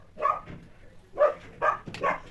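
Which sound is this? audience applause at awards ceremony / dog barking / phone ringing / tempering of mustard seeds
dog barking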